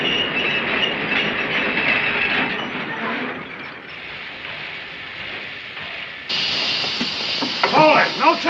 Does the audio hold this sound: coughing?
no